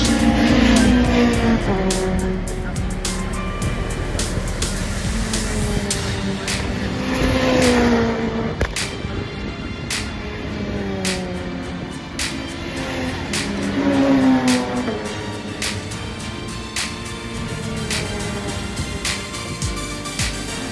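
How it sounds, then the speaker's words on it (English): Race cars at the Brands Hatch pit area roar and rev loudly, engines rising and falling repeatedly with several surges, continuous and close, with no talking. "We've come over to the pit area to check out some proper race cars."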